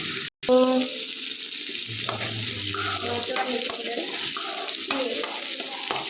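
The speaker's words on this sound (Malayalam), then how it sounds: "ഇതെല്ലാം കൂടെ ഒന്ന് വെളിച്ചെണ്ണയിൽ വഴറ്റാണ്" Onion and chilli sauté slowly in coconut oil for onion chutney, giving a steady, fairly loud hiss of frying throughout with a few soft stirring knocks, after a brief silent gap at the very start.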